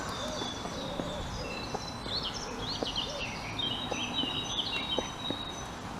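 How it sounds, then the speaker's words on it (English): Birds calling around the lake at Stanley Park, with high chirps and twittering trills layered over soft repeated hooting in a steady outdoor wash of ambient noise, moderately distant. "You can hear all the birds down here."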